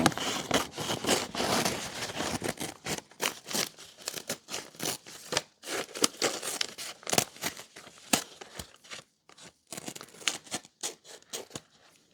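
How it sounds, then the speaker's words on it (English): Scissors snip and crinkle through excess newsprint wrapped around a foam pool noodle, an irregular run of close, crisp cuts and paper rustles with brief pauses. "And then we're going to cut the excess newsprint off."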